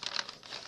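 Brown parcel wrapping paper handled and crinkled at close range, a short burst of dry crackling rustles that fade into softer scraping.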